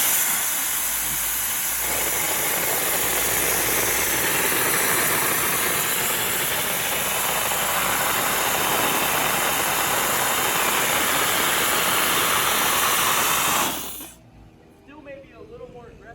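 A Cold Jet dry ice blasting machine cleans wood with pellets, making a loud, sustained roaring hiss close by that cuts off abruptly near the end, leaving quiet room sound.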